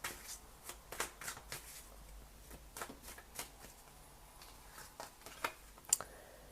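Tarot cards shuffled and drawn up close: soft, quick riffles and flicks in uneven bursts, with crisp snaps as cards are pulled, all fairly quiet.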